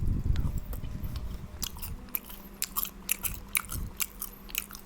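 A crisp bite into tahu gimbal, a fried shrimp fritter from Semarang, gives a dense crunching crackle followed by steady close chewing with sharp little crunches, and nobody speaks.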